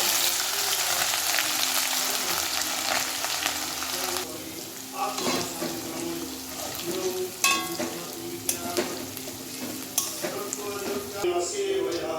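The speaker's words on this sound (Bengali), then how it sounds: "প্রথমে শুকনো লঙ্কা জিরে এলাচ দারচিনি ফোড়ন দিয়ে এরপর আগের থেকে কুচি করা আদাগুলো দিয়ে দেবো" Chopped ginger frying in a pan with dried red chili, cumin, cardamom and cinnamon for sago khichuri, a steady close sizzle with intermittent stirring clicks and scrapes.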